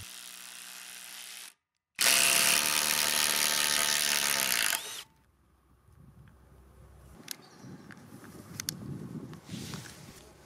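A Parkside Performance PDSSAP 12 A1 170 Nm brushless impact driver drives a screw while its hot battery trips overheating cutouts: a short whir, a pause, then a loud harsh hammering burst that suddenly stops, followed by quiet handling clicks and rustles.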